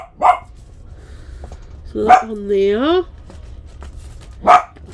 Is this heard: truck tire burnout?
no